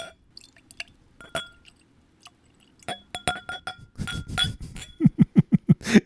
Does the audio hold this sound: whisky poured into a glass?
yes